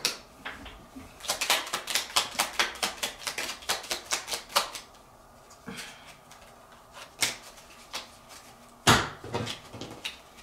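Tarot cards being shuffled by hand, a rapid run of crisp, papery riffs and slaps up close, then a few scattered taps and one sharp snap as the deck is handled, with no talking.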